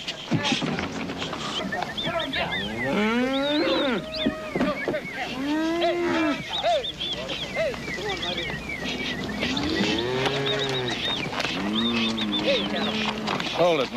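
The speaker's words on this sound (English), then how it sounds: "Hey, cattle." Cattle being driven by men call out over the herd, with drawn-out lowing moos rising and falling throughout, several animals overlapping at moderate distance beneath shouting voices.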